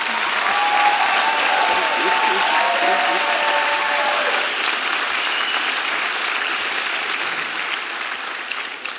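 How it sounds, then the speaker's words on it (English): Crowd at a school district teacher honors ceremony breaks into sustained applause, dense clapping from a large audience that stays loud throughout and slowly eases toward the end. "Would you join me in another round of applause for these teachers?"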